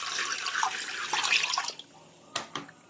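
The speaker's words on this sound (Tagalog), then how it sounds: "bubuhusan natin ng tubig." Water poured into a pressure cooker while cooking beef kare-kare, a steady splashing gush that stops after under two seconds, followed by a couple of brief drips or splashes, close and fairly loud.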